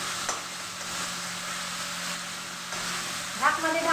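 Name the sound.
goat mince (keema) sizzling while frying on low heat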